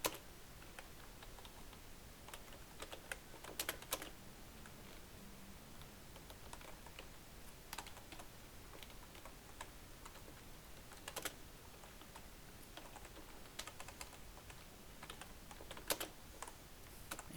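Typing on a computer keyboard while entering text in MS Word, with quiet, irregular clicks and short bursts of keystrokes throughout a hushed room.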